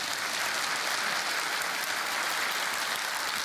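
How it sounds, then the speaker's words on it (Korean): Dense, even applause from a church congregation during a Korean worship service, a continuous wash of many clapping hands holding steady and fairly loud for the whole stretch, with no talk over it. "박수 한번 칠까요?"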